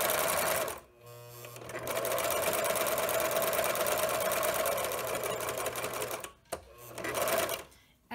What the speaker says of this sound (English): I'm going to serge. I've got my thread threaded